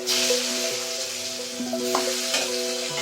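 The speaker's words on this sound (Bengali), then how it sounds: "এরপর আলুগুলোকে ভেজে নিব।" Potatoes sizzle steadily in hot oil in a kadai for an egg curry, a dense continuous crackle with occasional sharper spits and stirring clinks, loud and close with no talking.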